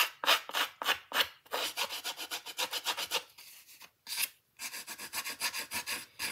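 A scissor blade, snips closed, is scraped repeatedly along a paper edge to distress it for a vintage card, making close, rapid rasping strokes in quick bursts with short pauses.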